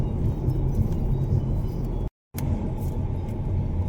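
Steady low road rumble from inside a car on a road trip between Hami and Turpan, a dense broadband engine and tyre drone that cuts out abruptly for a split second before resuming, with no talking.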